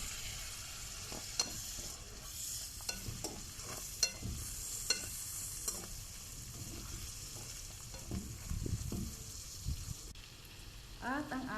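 Chicken pastil mixture with vinegar stirred in a pan, a steady frying sizzle with scattered spoon scrapes and soft clicks throughout, fairly close and moderate in level, with no talking.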